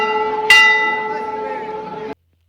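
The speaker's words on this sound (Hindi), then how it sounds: "और देखो ये ताई ने बजाई फिर घंटी चढ़ के" A metal temple bell at the Pathri Wali Mata shrine struck once, its sharp clang ringing out with sustained tonal overtones that slowly decay before cutting off; a faint voice may be present.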